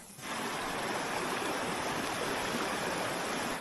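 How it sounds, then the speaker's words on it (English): A small taiga river spills over a rocky threshold, a steady broadband rush of falling water that holds constant and close with no other sounds. "This is how our little river falls."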